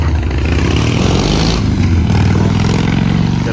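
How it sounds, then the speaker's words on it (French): A motorcycle passes along a street in Monaco, its engine loud, steady and close throughout, with a continuous broad roar and no pauses. "Ah, c'est une moto."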